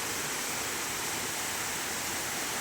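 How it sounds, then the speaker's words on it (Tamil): A small waterfall near Arur on the road to Kalasapadi pours in a steady, dense roar of rushing water, constant and close with no pauses or voices. "இந்த அருவி இருக்கிறது"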